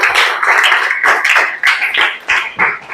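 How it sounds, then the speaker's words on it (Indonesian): A classroom group claps for a student, several short bursts of fairly loud, uneven hand claps close by, separated by brief gaps. "Tepuk tangan dong buat Jasmine dong."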